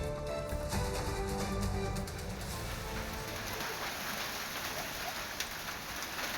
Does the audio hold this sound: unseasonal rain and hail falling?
yes